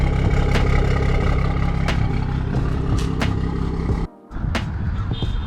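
A BMW 440i idles close by with a steady, throaty rumble and a few sharp clicks, then drops out for an instant before resuming.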